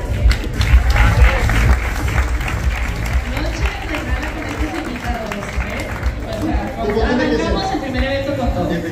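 Loud, dense audience applause at the Miss México 2023 contestant presentation, a crowd clapping and cheering continuously with a hubbub of voices mixed in throughout.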